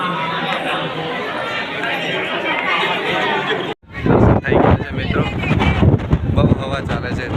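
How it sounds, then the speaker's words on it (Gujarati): Strong wind at the hilltop Pavagadh temple buffets the microphone in heavy low rumbling gusts, while people chatter and talk in the background. "ફૂલ તેજ હવા ચાલે છે મિત્રો"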